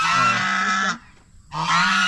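A guarding goose in a rural province yard gives two loud, harsh honks, the first long and the second starting after a short gap, close and alone with no voices.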